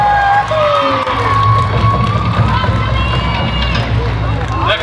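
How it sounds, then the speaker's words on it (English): Sustained crowd cheering and applause fill a Heiva Polynesian dance contest in San Diego, loud and close, with whoops and raised voices in the mix. "Come on, everybody, round of applause."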